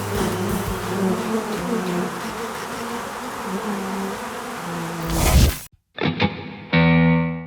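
A swarm of angry bees buzzes loudly and continuously as a dense drone. It cuts off abruptly near the end, followed by a few short, processed buzzing bursts.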